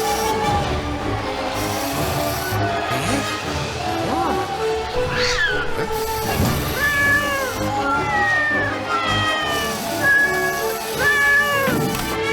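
A cartoon cat from the Turbozavry animated series meows repeatedly, with drawn-out, wavering cries over a busy cartoon soundtrack.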